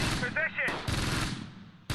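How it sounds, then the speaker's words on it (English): Rapid machine-gun and rifle fire from the WWII tactical video game Close Combat: Gateway to Caen, Normandy 1944, in dense overlapping bursts with a brief pause and a sharp renewed volley at the end; a voice briefly cuts in. "The Maestro's being shot at"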